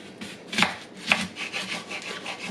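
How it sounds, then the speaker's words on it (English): A kitchen knife slices through onions on a cutting board, two crisp cuts followed by softer rubbing and scraping strokes, close and alone without talk. "we're going to take our knife and just cut these in half"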